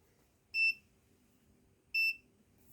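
A continuity tester on a multimeter gives two short, clear electronic beeps about a second and a half apart, over a quiet background hum.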